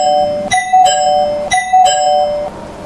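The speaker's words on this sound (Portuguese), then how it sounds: "a campainha tocou novamente, dessa vez de forma rápida e insistente" A doorbell rings quickly and insistently, four sharp chimes in fast succession with bright ringing tones, loud and close.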